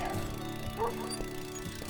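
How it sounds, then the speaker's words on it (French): A big dog barks and yips at a mountain biker on a trail, short rough barks close by over wind and riding noise, with a voice faintly in the background. "le chien, mon gars, il fait cette taille-là. Il t'aboie dessus"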